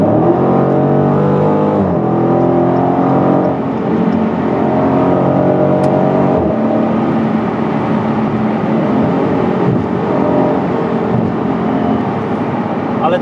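A Dodge Challenger R/T 6.4 V8 SRT rated at 485 hp runs loud and close, its deep V8 note droning steadily with rising and falling revs throughout.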